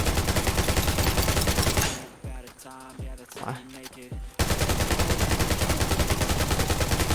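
Loud automatic gunfire in the video game Undawn comes as a rapid rattling stream. It stops for a couple of seconds while someone talks, then the same dense rapid fire resumes.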